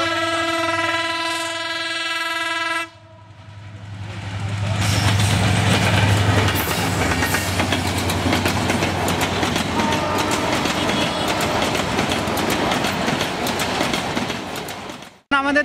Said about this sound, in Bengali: আমি দেখতে পাচ্ছি ওই পাশে ট্রেন আসতেছে দ্রুত গতিতে।